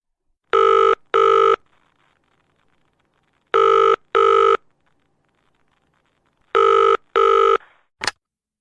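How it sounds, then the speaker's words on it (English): An old-style telephone bell rings in three evenly spaced double bursts separated by quiet gaps, clear and close, followed by a brief sharp click as the receiver is picked up. "The phone rang."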